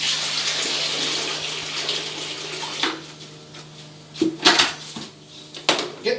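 Hot water pours into a plastic paint roller tray for wallpaper removal, a steady running stream followed by sharper splashes and a few clunks of the tray, close to the microphone with no talking.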